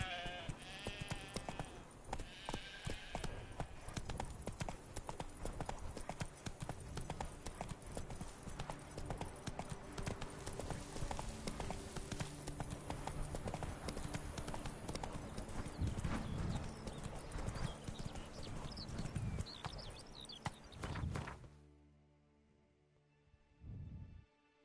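A horse's hooves clip-clop at a brisk, even pace in the video game Witcher 3: Blood and Wine, the steady beats continuing until they stop abruptly near the end.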